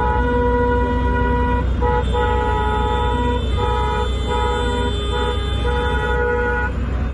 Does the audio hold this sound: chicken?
no